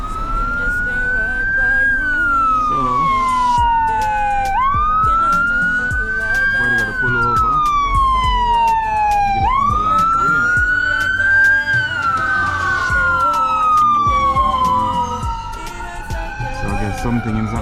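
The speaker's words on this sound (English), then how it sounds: "Yeah, it's an ambulance." Ambulance siren wailing through a busy town in the Cayman Islands, its rising and falling tone sweeping loud and steady before easing slightly at the end, with traffic and street noise beneath.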